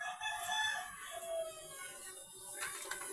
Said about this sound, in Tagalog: Hen po to, hen.